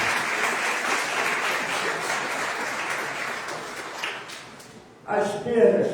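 A church congregation applauds during a sermon, a full crowd clapping that fades gradually. It stops abruptly and a preacher's voice takes over for the last second.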